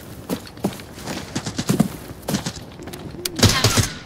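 Scattered gunshots in the video game Arena Breakout Infinite, where a Mosin rifle is in use, come as sharp, fairly distant cracks at irregular intervals, with a small cluster near the end.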